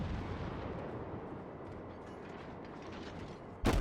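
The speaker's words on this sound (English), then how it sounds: "firing shells" Battleship guns fire shells in World of Warships, a dense continuous rumble of distant gunfire and mechanical creaking that ends in a sudden, sharp, loud blast.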